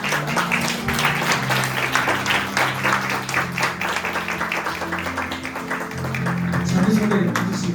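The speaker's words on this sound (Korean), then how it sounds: "큰 박수로 환영해 주시기 바랍니다" A church congregation claps to welcome new members, dense sustained applause filling the room at close range, swelling slightly toward the end.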